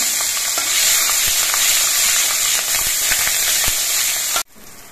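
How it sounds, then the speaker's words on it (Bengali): Nigella seeds and slit green chillies fry in hot oil with a dense, continuous sizzle and faint crackles, close up, before the sound cuts off abruptly near the end. "এবার এই তেলের মধ্যে অল্প করে একটু কালো জিরে দিচ্ছি। 4টে চেরা কাঁচা লঙ্কা দিচ্ছি।"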